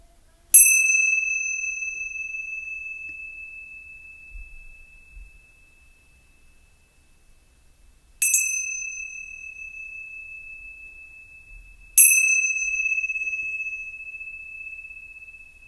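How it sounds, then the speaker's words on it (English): A meditation bell rings three times during a Sunday morning meditation, each clear metallic strike sustaining a long, bright tone that slowly fades; the second and third strikes come closer together, with silence otherwise. "As we listen to the sound of the bell, this last time"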